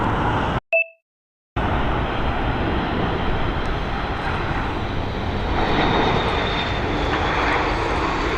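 A Ryanair Boeing 737 MAX, newly delivered from Seattle, arrives at Dublin Airport. Its steady, loud jet engine roar fills the scene almost continuously, broken by a brief dropout near the start, with no talking.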